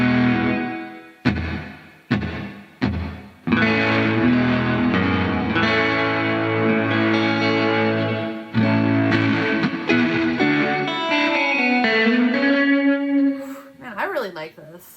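Distorted electric guitar chords ring out through a Rainger FX Reverb-X pedal on its dark setting, a dark, washy reverb, starting with short stabs and then sustaining into long echoing tails.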